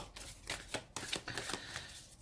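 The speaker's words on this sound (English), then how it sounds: "Now they've had a very good shuffle." A deck of tarot cards being shuffled by hand, with quick, crisp riffling bursts and flutters repeating close up and fairly quiet, no voices.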